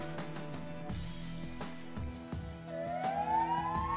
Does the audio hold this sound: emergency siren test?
yes